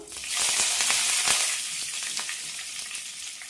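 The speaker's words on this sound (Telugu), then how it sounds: "తాలింపులో వేగిన పప్పులు ఇవి మంచిగా వేగేదాకా వేపుకుందాం" Lentils fry in hot oil for a tempering, giving a loud, steady crackling sizzle that runs unbroken throughout with a few sharper pops and no voices.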